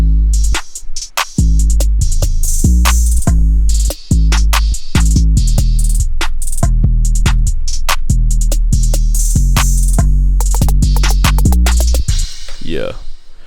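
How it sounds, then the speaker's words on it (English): Pluggnb drum pattern programmed in FL Studio, punchy kicks, deep 808 bass and rapid hi-hats looping steadily and loud, with a quick snare roll building near the end before a brief sweep. "I'm gonna show y'all the pattern with the snare roll."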